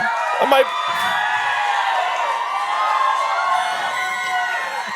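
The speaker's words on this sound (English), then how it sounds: "That might be the loudest cheer we've ever gotten" A large live audience at a reading of a Goblet of Fire chapter in Charlotte erupts in loud, sustained cheering and whooping, a dense roar of voices that holds steady throughout, with a brief shout near the start.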